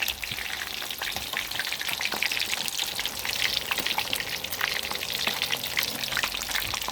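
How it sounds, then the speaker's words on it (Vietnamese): A whole giant gourami fish deep-frying flat in hot oil in a pot gives a steady, loud, crackling sizzle with dense popping bubbles throughout, close by and with no voices. "Nhà hàng chiên cá đứng mà mình chiên cá nằm. Chiên bằng cái nồi á."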